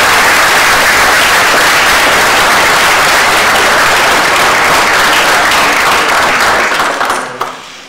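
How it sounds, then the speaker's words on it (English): A lecture-hall audience gives loud, sustained applause for Harvard Law School professor John Goldberg, dense clapping from many hands that holds steady and then quickly tapers off at the very end. "So let's give him a big round of applause."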